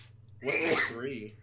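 A single sharp human sneeze during a tabletop role-playing game session, close and fairly quiet, lasting about a second, with a faint low hum beneath it.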